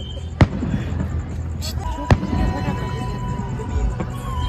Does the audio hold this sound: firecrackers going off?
yes